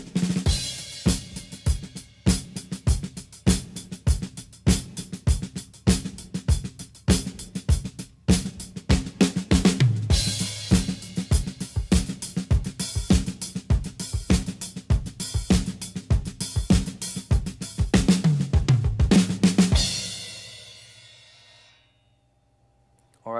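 A drum kit played with a busy left-hand rhythm pattern: dense, rapid hits with recurring accents, loud and close, running steadily for about twenty seconds before ringing out into silence.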